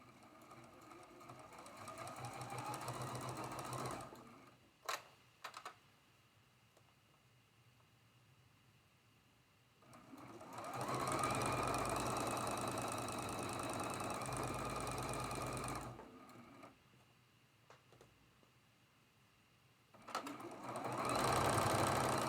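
A sewing machine stitches the final seam of a quilt row on a Grandmother's Cross block, running in two long bursts of rapid mechanical whirring separated by quiet pauses and short clicks, with a third burst starting at the end.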